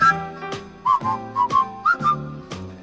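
A person whistles "Always Look on the Bright Side of Life" alone and close up, a series of clear, bright tones in short melodic phrases with brief gaps between them.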